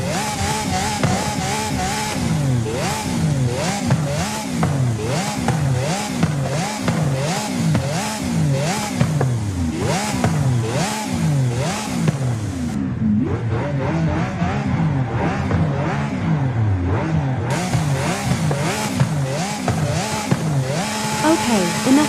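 A Lamborghini Aventador SV in Forza Horizon 5 revs again and again, its engine screaming up and down in rapid cycles and slamming the rev limiter, loud and continuous with a short lull midway.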